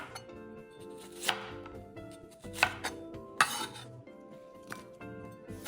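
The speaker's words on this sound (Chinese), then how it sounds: "洋葱1个，切成小块状。" An onion being chopped into small pieces on a cutting board in a home kitchen, several distinct sharp knife thuds at uneven intervals over soft background music, close and clear.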